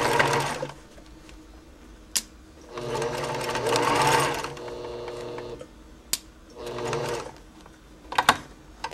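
A sewing machine stitches ribbon down the middle of a handmade burp cloth in short bursts of rapid whirring, broken by pauses, presser-foot clunks and sharp handling clicks, all close and clear.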